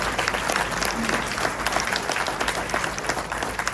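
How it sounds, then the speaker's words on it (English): A large crowd at a celebration of life applauds Tommy Sablon and Devin, dense steady clapping sustained throughout with a faint murmur of crowd noise beneath. "a big round of applause for Tommy Sablon and Devin."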